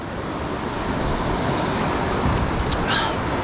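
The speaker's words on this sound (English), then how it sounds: "the noise of the rapids coming on down here" Dartmouth Rapids at Ohiopyle rush as a steady, broad roar of churning river water, even and continuous over a few seconds, with a faint brief knock near the end.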